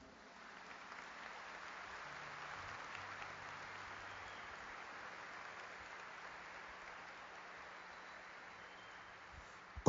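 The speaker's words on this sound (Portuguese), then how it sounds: "Merece aplauso isso, não?" Faint, distant applause from a congregation at a Catholic consecration gathering, a soft steady hiss of many hands clapping that holds low throughout without talk.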